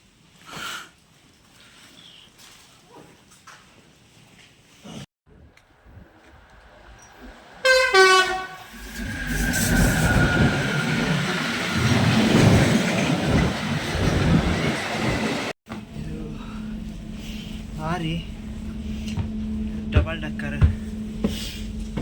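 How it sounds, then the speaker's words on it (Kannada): A train moves through an old railway station in Dresden, Germany, its rumble and clatter swelling loud midway, with a horn sounding, while people talk nearby before and after the passing. "train station"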